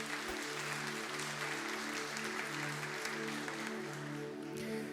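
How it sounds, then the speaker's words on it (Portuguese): A church congregation applauds with soft, continuous clapping, heard at a distance and fairly faint, over a steady low tonal hum running underneath. "Beija sua Bíblia e aplauda a palavra de Deus."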